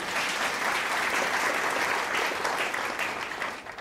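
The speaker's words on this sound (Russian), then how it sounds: "Встречайте бурными аплодисментами." An audience gives steady, dense applause for the finalists, continuous clapping throughout that tapers slightly at the close.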